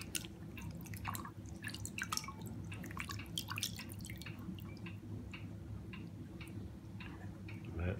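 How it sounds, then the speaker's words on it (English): Rollmop herring being rinsed under a running tap, with irregular splashing drips and trickles of water over a steady low hum, close and fairly loud throughout. "Rinse it off."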